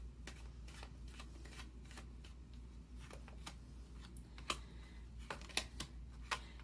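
Tarot cards being shuffled during a card reading: soft, quiet riffling and sliding with a few sharper card snaps near the end, over a low steady background hum.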